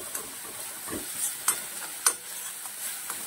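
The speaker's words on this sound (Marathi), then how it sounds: "थोडीशी हळद घालायची आहे, पूर्ण परतून घ्यायचं आहे." Pea and spinach curry filling with turmeric sautéing in a pan, a soft steady sizzle broken by a few sharp scraping stirs, close and alone.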